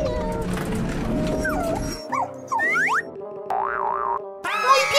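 A cartoonish video game dog barks, yips and howls in quick bursts, mixed with springy boing effects and game music, loud and up front.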